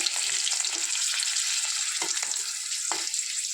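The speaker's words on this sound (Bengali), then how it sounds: "তেলে আমি এবার ফড়ন দিচ্ছি এই দেখো কালো জিরে" Black cumin and two dried red chillies frying in hot oil, a loud continuous crackling sizzle close by, with a few soft scrapes of a spoon moving the spices around the pan.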